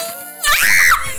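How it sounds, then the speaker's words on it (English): A player lets out a sudden shrill scream while playing Snipperclips Plus, rising sharply after a quiet moment and holding for about half a second before trailing off into a softer vocal sound. "that was a genuine scream"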